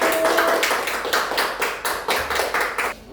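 Classroom applause for a student group: a short burst of hand clapping from a small group of pupils, close and fairly loud, pulsing in uneven waves before cutting off.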